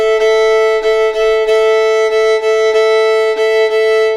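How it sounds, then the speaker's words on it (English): A fiddle plays a basic shuffle rhythm: one bright, sustained tone pulsed by steady, evenly spaced bow accents, loud and close, with no talking. "So our basic shuffle, just as a reminder,"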